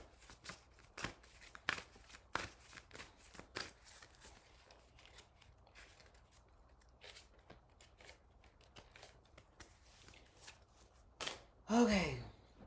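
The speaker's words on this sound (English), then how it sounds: "let's just shuffle the cards" Tarot cards being shuffled in short bursts of crisp riffling and flicking, with pauses between, close and fairly quiet, followed by a brief voice.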